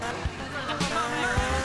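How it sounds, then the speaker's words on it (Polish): A motorbike accelerating in the GTA Vice City video game: a steady engine drone with faint tire squeal and a few thuds, while someone speaks over it. "Ten motorek jest chyba dość szybki"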